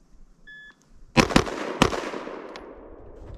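A short shot timer beep, then three loud pistol shots in quick succession, the first two close together, each echoing briefly.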